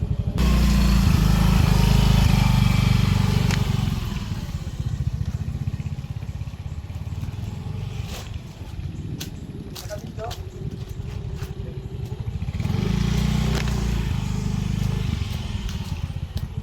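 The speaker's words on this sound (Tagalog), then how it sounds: "Kailangan natin ipasok yung motor natin" A motorcycle engine idles and revs nearby, loud at the start and again toward the end, with clattering knocks and people talking over the middle stretch.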